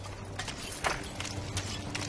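Horse hooves clip-clop at a slow, steady walk in the video game Fable Journey, a few soft hoof falls sitting close and low beneath a constant rumbling ambience with no talk.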